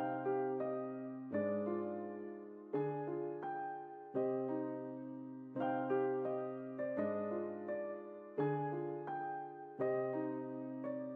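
Repeating keyed melody from FL Studio with randomized note velocities, its notes striking at slightly uneven strengths in a steady looping rhythm, fairly quiet and without any talking.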